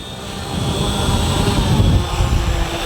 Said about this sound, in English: HE-111 taxiing out.